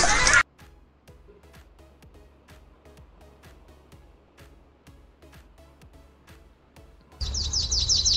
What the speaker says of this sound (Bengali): ময়না পাখি বলে কথা।